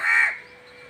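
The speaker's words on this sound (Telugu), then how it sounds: "ఈ కాకి చూడండి చక్కగా ఉంది" A single harsh caw from an ailing crow rings out loud and close, then fades into quiet.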